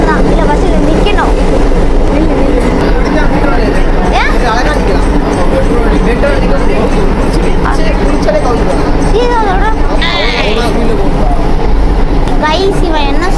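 Metro train rolls along its rails, heard from inside the car as a loud, steady rumble and clatter, with people talking close by over it.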